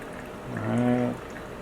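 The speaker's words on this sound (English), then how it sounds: "I start pouring a little bit on the side just to get this back down." Hot water is poured briefly over coffee grounds for pour-over coffee, a soft gurgling pour that swells and fades within a second, with no talking.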